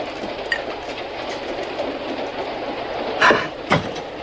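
Steady rumble and rattle of a moving passenger train heard from inside its last car, with a continuous rolling hum and a couple of louder clanks near the end.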